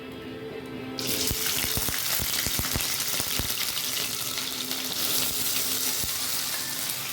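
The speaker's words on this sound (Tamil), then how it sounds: "அதை இந்த எண்ணெயில் போட்டுடலாம்." Chopped ivy gourd (kovakkai) hits hot oil and bursts into a loud, steady sizzle after a quieter second, with crackling pops scattered through the hiss at close range.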